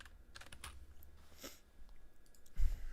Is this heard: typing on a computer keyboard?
yes